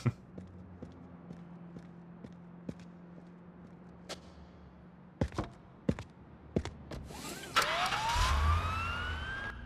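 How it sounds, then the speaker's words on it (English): In a paramedic simulator video game, scattered clicks and thumps, then a rising electronic ambulance siren wail begins near the end and continues loudly over engine rumble. "Automatically started the siren."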